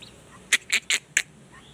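Four short, squawky turkey calls come in quick succession, close by, against a quiet background.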